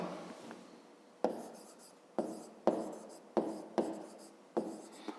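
A pen writes on paper up close in a series of quick, scratchy strokes, each starting with a sharp attack and trailing off, with brief gaps between them.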